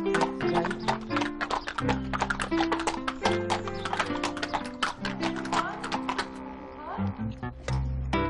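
Horse hooves clip-clopping at a walk in a children's TV programme, a brisk irregular run of hollow clopping beats, close and fairly loud, with lively music playing underneath and voices talking between the steps.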